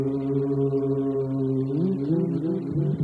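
A band opens a new song live with a sustained low drone and a wavering, gliding groan-like tone that bends upward, steady and moderately loud.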